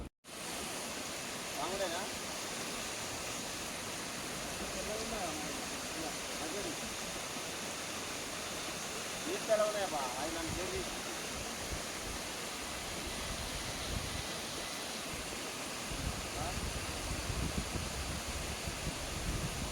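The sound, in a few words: water flowing while someone fills water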